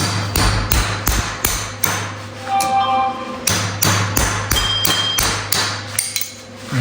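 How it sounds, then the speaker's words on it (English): Sharp hammer strikes ring out in quick irregular bursts against metal during work on an RV rear tire mount, loud and close, with a steady low hum beneath and a short pause midway before the tapping resumes. "Let me see this hammer."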